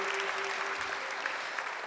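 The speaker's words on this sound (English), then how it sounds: "Give my father a loving, wonderful round of applause," An audience applauds steadily, a dense wash of many hands clapping together at a constant level throughout.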